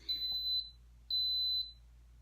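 Two high electronic beeps from an Instant Pot making yogurt, each lasting about half a second, separated by a short pause, clear and alone against a quiet background.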